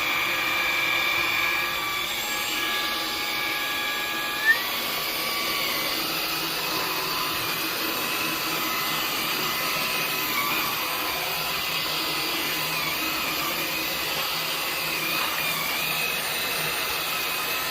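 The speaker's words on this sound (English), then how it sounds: "So it has a really powerful suction, and I have sucked up the edges of the carpets." Dreametech H12 Dual wet-dry vacuum runs continuously with a steady high whine and airy suction hiss, one brief bump partway through, and no talking.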